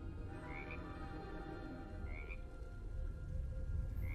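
A frog croaks in short, faint chirping bursts, about three spaced calls, against a low, steady background hum in a scene from The Book of Boba Fett.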